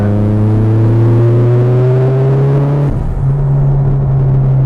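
A turbocharged Mitsubishi Evo X pulls at wide open throttle, its loud, close engine drone holding steady and climbing slightly, with a brief dip partway through before the roar resumes.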